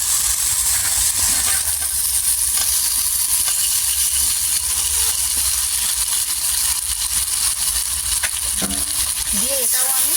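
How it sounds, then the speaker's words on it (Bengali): Fried jackfruit and potatoes tipped into a pan of cooking shrimp, giving a steady loud sizzle and hiss with faint stirring scrapes near the end. "এবারে দিয়ে দেবো ভেজে রাখা এঁচোড় আর আলু।"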